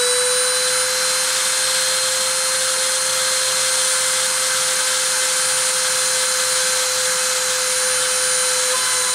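A motor spinning at 30,000 RPM during a deposition run gives a loud, unbroken high-pitched whine with a steady hum underneath, constant throughout with no talking.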